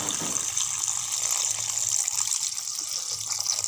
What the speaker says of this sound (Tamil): இப்போ தேவையான அளவு வந்து நம்ம தண்ணி ஊற்றிக்கலாம்.